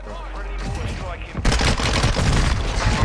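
Gunfire in the video game Warzone 2.0 erupts as a dense burst of rapid shots after quieter game sounds and voices, loud and close.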